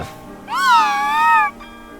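A cartoon cat from the Doraemon series lets out a single loud, drawn-out meow lasting about a second, clear and close, with no talk over it.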